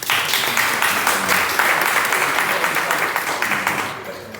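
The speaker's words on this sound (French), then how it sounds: "vous pouvez l'applaudir" An audience claps warmly for a speaker at a talk on eco-tourism and agroforestry, a thick steady wash of applause that gradually thins and fades near the end.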